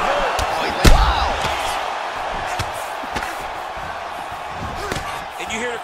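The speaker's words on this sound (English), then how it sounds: "And you hear the crowd react every time they come together" A crowd's roar rises and falls behind sharp punch thuds and smacks in a boxing video game, with cheers swelling after hits and talk running over the top.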